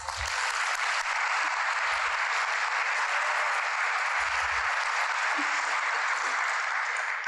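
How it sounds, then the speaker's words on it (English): Steady audience applause fills the hall for a city mayor at a State of the City address, a dense unbroken wash of clapping lasting throughout with only faint low rumbles beneath. "Let's give him a round of applause"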